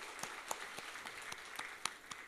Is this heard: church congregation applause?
yes